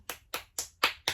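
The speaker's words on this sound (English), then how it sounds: "Let's applaud ourselves." Five distinct hand claps from one person, evenly spaced about a quarter second apart, crisp and close with silence between each.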